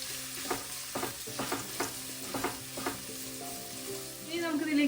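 Sliced onions sauté in a pan for onion rice, giving a loud, continuous sizzle broken by several sharp stirring scrapes in an uneven rhythm.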